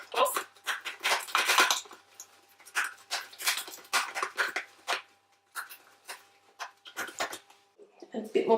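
Pink and purple hair dye stirred together in a bowl, with repeated soft scraping and clinking of a brush against the bowl in irregular bursts, fairly close and moderately loud.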